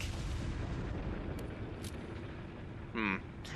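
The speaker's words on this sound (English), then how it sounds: "And we can pop the dynamite into the boulder." Dynamite blasts a boulder in Resident Evil 4 on the Wii, a loud, sustained rumbling roar of explosion that fills the whole stretch, with a brief burst of game noise near the end.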